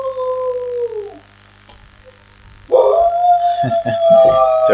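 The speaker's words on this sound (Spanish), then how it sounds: "Seguro lo están escuchando a mi perro." Dog howling indoors during an online class, a long drawn-out wavering howl that fades, a pause, then a louder rising howl with a few short yips, all fairly close.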